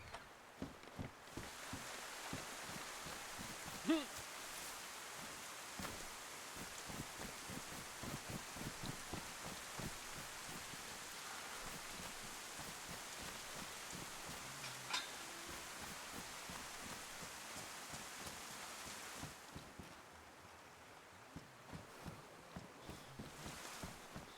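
Rain falling in the DayZ video game, a quiet, continuous hiss with dense, irregular patter that runs for most of the stretch and thins briefly near the end, with no voices.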